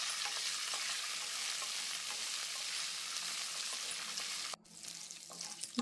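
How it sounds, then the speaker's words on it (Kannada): Guntur and Byadgi red chillies fry in oil alongside garlic, a loud continuous close-up sizzle that drops off sharply near the end, then returns more quietly with light crackling. "ಹಾಗೆ ಗುಂಟೂರು ಮೆಣಸಿನ್ಕಾಯಿ, ಹಾಗೆ ಬ್ಯಾಡಗೆ ಮೆಣಸಿನ್ಕಾಯಿ ಹಾಕಿ ಇದನ್ನು ಎಣ್ಣೆಯಲ್ಲಿ ಫ್ರೈ ಮಾಡ್ಕೋಬೇಕು."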